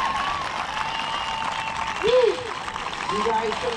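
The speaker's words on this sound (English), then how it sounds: "one more round of applause, everybody" Audience applause rolls on steadily after a marching band's field show, a broad, even wash of clapping with a voice talking over it and faint whistle-like tones drifting through.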